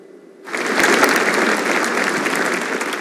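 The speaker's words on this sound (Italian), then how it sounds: "dal lungo applauso che accoglie il presidente Mattarella" Long, steady applause from a theatre audience at the Rome Opera House greeting President Mattarella, starting abruptly after a quiet moment and holding dense and loud throughout.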